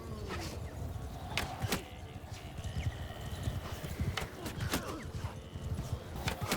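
Horses galloping in an Amir Timur campaign battle of a strategy video game, a busy rolling clatter of many hooves with sharp clanks and occasional whinnies, loud and close.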